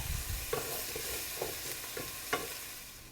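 Onions frying and softening over lowered heat in a pan, a steady close sizzle with several spoon stirs scraping through it at irregular intervals.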